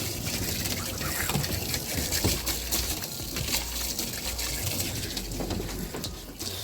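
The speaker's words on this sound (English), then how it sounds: "because I've got the water running" Water running hard from a hose during wheel cleaning on a truck, a loud, steady gushing spray filling the whole clip with no pauses and no talk.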